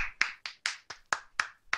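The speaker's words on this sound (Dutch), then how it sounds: "Ongelooflijk geweldig applaus die ik er net even in heb geëdit" Seven sharp hand claps in a steady, brisk rhythm, close and isolated, each one ringing briefly.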